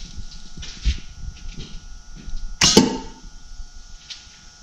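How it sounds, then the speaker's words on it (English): A sharp vacuum pop from the control valve of a VW Autostick shifter, one brief loud burst amid quiet low rumble and faint shuffling. "you'll actually hear our control valve activate"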